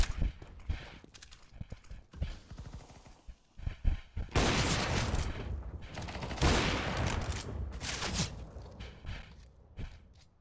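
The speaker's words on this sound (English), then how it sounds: "Flashbang out." Rapid gunfire and loud blasts from a shooter video game, with dense bursts of shots and a sustained loud stretch of firing and explosion noise through the middle and latter part.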